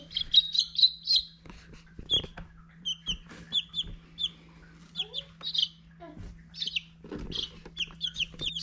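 A single baby chick, newly hatched, chirps in repeated high-pitched peeps, fairly close, over a quiet steady hum with occasional soft knocks.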